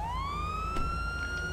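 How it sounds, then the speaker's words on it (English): A police car siren in GTA 5 with the LSPDFR mod wails steadily, its pitch rising and holding, with a low vehicle rumble underneath. "Turn my sirens off though."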